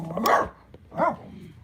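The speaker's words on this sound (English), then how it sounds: "There's a wee dog going by." A small dog passing by outdoors gives two short barks about a second apart, moderately close, with no talk over them.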